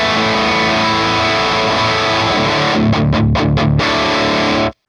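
An electric guitar on its neck pickup plays through an Orange Gain Baby 100 amp, giving thick distorted sustained chords that end in several quick choppy stabs before cutting to silence.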